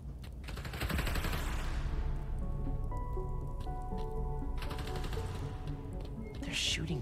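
Gunfire in Marvel's Spider-Man: Miles Morales, a fairly quiet crackle of rapid shots blended into rain-like hiss, with game tones and a brief flare near the end.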